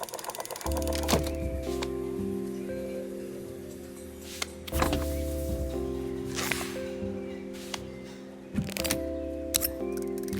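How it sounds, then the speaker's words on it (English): A record player motor in a video game hums steadily in low tones, running in repeated segments that stop and restart, with soft clicks and handling noises in between. "It must be to do with the motor."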